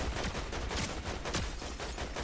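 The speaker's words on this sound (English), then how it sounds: "Oh, there's a lot of gunshots over here," Gunfire in the video game Battlefield 6 comes as several quick, rough bursts of shots, mid-distance and moderately loud, with some overlapping the rest, and no talking.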